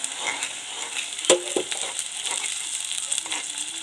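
Onions and masala fry in a pan with a steady close sizzle, broken by a few scraping stirs and clinks from a utensil, and no voice.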